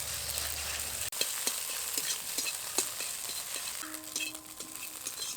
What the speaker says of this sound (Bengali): একদম গুঁড়ো করে ভেজে নেব।